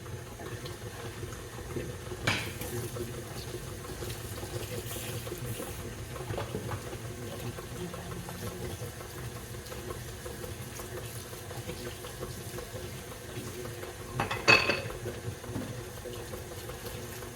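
A kitchen tap runs steadily while cookie-making dishes are washed, with a low continuous water hiss, a few soft clinks and a louder splash and clatter near the end.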